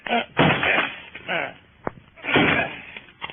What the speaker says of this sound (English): Come on, let's break down the door.